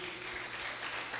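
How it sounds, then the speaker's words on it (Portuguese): A church congregation claps together during a sermon, a short, dense burst of steady applause without spoken words. "E as palmas glorificam a Deus."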